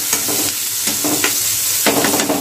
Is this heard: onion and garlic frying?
yes